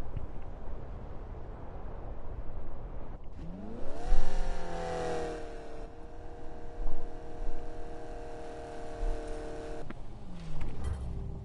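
Car engine with an upgraded aftermarket exhaust revving up once, pitch climbing and then holding a steady high drone before dropping back, heard close with wind noise around it and no talking.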